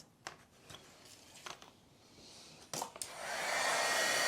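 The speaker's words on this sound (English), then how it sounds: "we're just going to use our heat gun and heat emboss this." Heat gun switching on for heat embossing powder on a card, a steady loud blowing whoosh that starts after a few soft handling taps and clicks.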